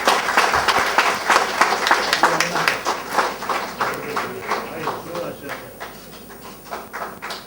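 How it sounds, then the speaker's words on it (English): Guests at a Singapore farewell dinner for Chan Soo Sen give a round of applause, brisk rhythmic claps that swell and then gradually thin out, with talk in the room. "Another round of applause."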